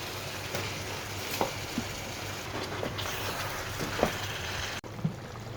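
Chicken meat sizzles in a pan of thick, well-fried spice masala, a dense, even frying hiss with a few soft spoon knocks and scrapes against the pan.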